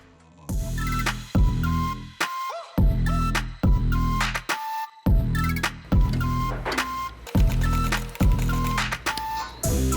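A sewing machine stitches a Nike tongue tag onto a custom Air Jordan 1 sneaker, running in loud repeated bursts of rhythmic mechanical whirring separated by brief pauses.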